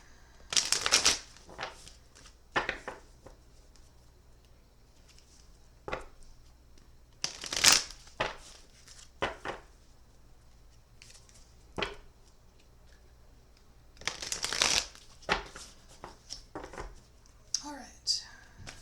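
A deck of cards is shuffled in several loud crisp riffling bursts, with softer card handling and quiet shuffles in between, heard up close in a quiet room.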